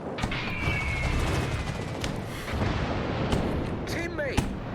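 Ship artillery fire on a target in a ranked naval video game match, dense booming gunfire rolling continuously at a loud level, with scattered sharper blasts and whistling shell sounds layered over the din.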